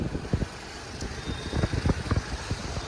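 A car drives along a road in the early morning, with a steady engine and road rumble broken by repeated knocks and bumps. No one speaks.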